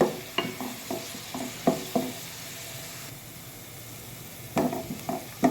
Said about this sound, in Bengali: প্রথমেই চুলাতে একটা হাঁড়ি বসিয়ে দিয়েছি, দিয়ে তেল আর পেঁয়াজ দিয়ে দিলাম।